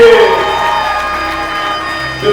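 A crowd at a gathering for Vital Kamerhe cheers loudly with whoops and shouting voices, packed into a short, dense burst.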